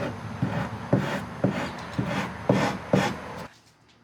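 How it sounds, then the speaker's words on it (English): A hand rasp files the end of a wooden piece down to finished length during an install, with about six distinct rhythmic scraping strokes, close and fairly loud, before the rasping stops. "I creep up on my finished length with a rasp"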